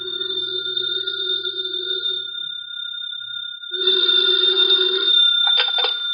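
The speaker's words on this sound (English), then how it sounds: "the phone in the Lawrence house on Berry Hill Lane began to jingle" A telephone rings in a house during an old-time radio mystery drama, its electronic trill sustained for a few seconds, pausing, then ringing again, loud and close with no voices.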